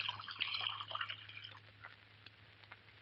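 A drink poured into a glass, a short quiet liquid trickle with a few drips that fades toward the end, over a faint low hum.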